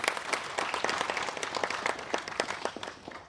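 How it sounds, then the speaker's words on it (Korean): A seated audience at a memorial ceremony in a memorial hall claps together to welcome an introduced guest, a dense, steady round of applause that gradually thins into scattered claps. "박수로 환영시켜 주시겠습니다"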